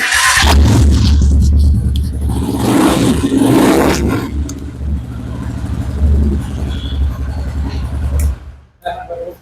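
A Rusi XL V7 motorbike engine revs loudly up close through its exhaust, roaring in bursts before settling to a lower rumble, with people talking over it.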